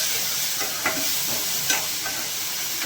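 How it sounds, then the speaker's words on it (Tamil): A spoon stirs tomato, onion, ginger garlic paste, salt and turmeric in a hot pan for a mutton curry, with a steady close sizzle and a few soft scraping strokes. "அதோட சால்ட்டு, மஞ்சத்தூள் சேர்த்து நல்லா கலவி விட்டுக்குவோங்க."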